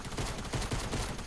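Rapid gunfire in the Fortnite video game forms a dense, continuous crackle of overlapping shots, loud and sustained across a brief burst.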